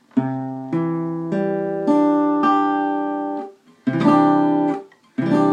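Guitar notes plucked one at a time, about six in sequence, each ringing and sustaining before the next, close and clear with short pauses toward the end.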